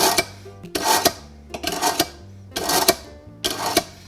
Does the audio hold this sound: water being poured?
no